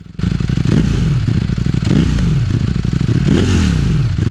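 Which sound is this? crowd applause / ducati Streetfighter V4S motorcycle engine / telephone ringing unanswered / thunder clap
ducati Streetfighter V4S motorcycle engine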